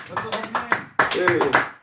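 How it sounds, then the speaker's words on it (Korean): A few people clap at the close of a live Korean home worship service, sparse distinct hand claps in an uneven rhythm, close by and fairly loud, with a short pause midway. "하나님께 영광의 박수로 예배를 마치도록 하겠습니다"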